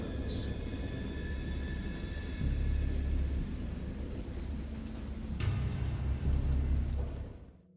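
Thunderstorm ambience in the Simulacrum video game, with steady rain hiss and two deep rolling thunder rumbles, a low boom building near the middle and a louder one near the end before fading out.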